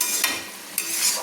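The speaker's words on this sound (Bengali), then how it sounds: "দিয়ে আমি একটু ভালো করে নেড়ে নিচ্ছি" A pan of cabbage and prawn curry stirred at close range, with two sharp scraping strokes and a soft ongoing sizzle between them; no voices.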